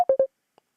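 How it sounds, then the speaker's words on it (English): On a live evening radio phone-in show, a telephone line gives three short, crisp dialing beeps in quick succession, followed by a faint click and quiet. "We've got Rosie on a ringing call here"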